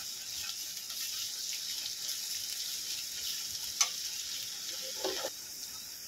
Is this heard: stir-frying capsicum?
yes